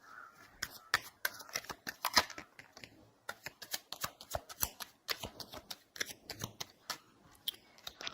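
Tarot cards being shuffled up close, a quick series of crisp riffling snaps and papery slaps that come in uneven bursts, pause briefly near the three-second mark, then resume.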